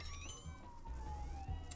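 A police siren outside, faint and distant, with slow falling wails behind quiet room sounds.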